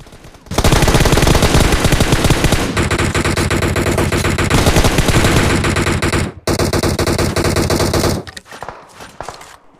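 Loud, sustained bursts of M4 rifle fire in a shooting video game, rapid continuous automatic shots with brief pauses between volleys before trailing off.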